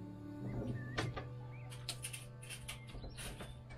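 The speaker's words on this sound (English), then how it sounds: "About 5 o'clock in the morning, they're all chirping and tweeting." Birds chirping in an early morning woodland, scattered short tweets and calls at varying distances over a low steady hum, fairly faint with no talk.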